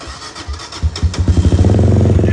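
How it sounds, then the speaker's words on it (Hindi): A Benelli TNT-25 250cc motorcycle engine cranks with a few uneven coughs, then catches and settles into a rapid, steady thrum, loud and close. "अब हम करेंगे बाइक को स्टार्ट"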